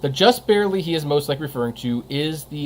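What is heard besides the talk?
No distinct noise like a dog, phone or traffic.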